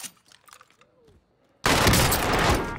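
Video game gunfire, a sudden loud burst of sustained rapid shots that kicks in after a quieter stretch of faint game sounds and keeps going to the end.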